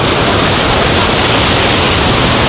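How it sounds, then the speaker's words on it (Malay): Rhine Falls in Switzerland, a huge waterfall, thundering close by as a loud, dense, unbroken roar of rushing water. "Air terjun paling besar dekat Europe guys."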